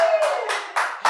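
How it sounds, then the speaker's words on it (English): A few crew members behind the cameras at a music interview clap slowly, four separate close claps spaced evenly across a second, with no crowd noise. "Round of applause from behind the cameras,"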